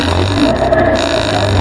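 A tricycle engine labours in too low a gear with no gear change, giving a steady, loud, low droning hum that holds throughout with no one speaking.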